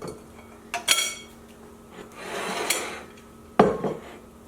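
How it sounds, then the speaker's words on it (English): Metal trivet with handles lifted out of an Instant Pot after cooking a whole chicken, giving a few sharp metallic clanks and scrapes against the pot, with a softer rattling rub between them. "I have my trivet with handles here, so I think I might be able to get it out without too much trouble"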